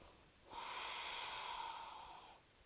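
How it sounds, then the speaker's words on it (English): Deep, slow breath during a yoga stretch with the legs crossed over, one long steady airy exhale lasting about two seconds, close and soft against a quiet room. "Breathe deep."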